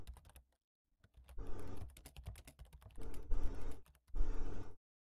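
Close, crisp computer keyboard typing in Cemetery Mary comes in three bursts of quick clicking keystrokes separated by short pauses, with no talk.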